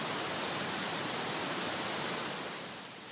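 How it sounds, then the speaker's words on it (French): Boiling water poured from the spout of a Kelly Kettle, a steady, even rushing splash that stays close and continuous before thinning slightly at the end. "on va venir se servir de la chaînette et renverser tout ça tranquillement pour pouvoir déguster son eau bouillante"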